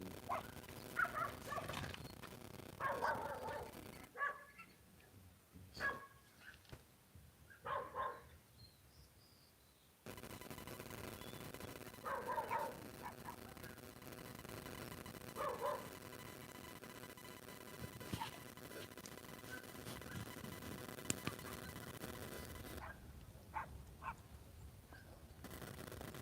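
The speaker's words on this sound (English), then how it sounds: "There seems to be a lot of dogs" Several dogs bark outdoors at night in rural open country. The barks are faint and distant, come in scattered bursts and overlapping volleys, and sit over a low hiss of background noise.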